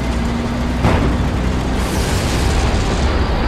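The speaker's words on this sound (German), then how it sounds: "Wir befinden uns unter Beschuss. Die haben uns im Visier." Booming explosions from a World War II battle in the strategy game Codename Panzers, a dense continuous roar of blasts and gunfire with a sharper burst about a second in, loud throughout.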